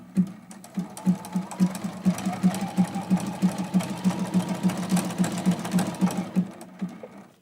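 A sewing machine stitches a small zigzag around a fabric heart on a quilted mug rug. It runs at a quick, even rhythmic pulse for about seven seconds and is heard close and alone.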